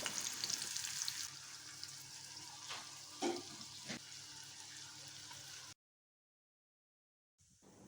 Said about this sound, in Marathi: ह्याच कढईमध्ये कांदासुद्धा छान क्रिस्पी फ्राय करून घ्या